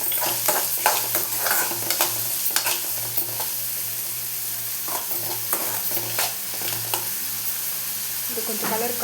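Onions sauté in a pan for a Tamil drumstick-leaf and egg stir-fry, with a steady oily sizzle broken by repeated scraping strokes of a spoon stirring, close and fairly loud, with no voices.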